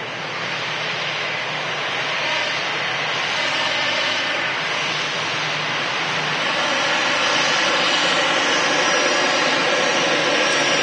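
An EasyJet jet airliner at Manchester Airport roars steadily for the whole stretch, a loud, continuous engine rumble and broadband whine that swells slightly toward the end, with no talk over it.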